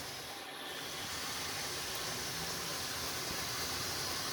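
A model NS 2200 locomotive runs along the track, a steady, faint rolling hiss with no talk that holds evenly for a few seconds.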